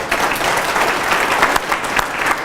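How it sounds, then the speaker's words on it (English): An audience applauds steadily to welcome Advocate Vusi Pikoli, a dense, continuous wash of clapping filling the hall at even loudness with no voices over it. "please give him a round of applause"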